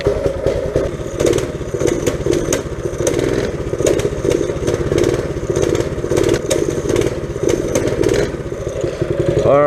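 A small pull-start engine, choked, runs loud and close with a steady clattering mid-pitched drone and periodic revving surges throughout, voices briefly audible over it.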